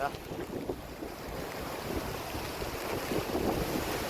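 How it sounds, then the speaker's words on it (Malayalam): Strong monsoon wind at a river mouth buffets and roars across the microphone in continuous gusts, with water washing faintly in the background. "നല്ല കാറ്റുണ്ട്"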